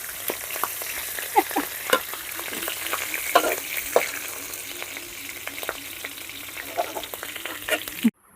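Pla daek, fermented fish, sizzles and crackles steadily in a pan, with scattered louder pops and stirring scrapes throughout, then cuts off abruptly near the end.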